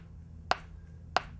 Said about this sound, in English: so I have the metronome set at 92 beats per minute